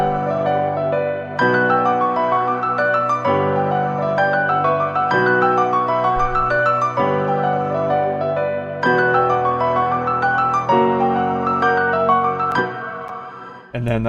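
A looping orchestral piano phrase for a trap beat, processed with Valhalla Ubermod modulation and a touch of reverb, repeats its chords in a steady cycle, full and washy, with no talking over it.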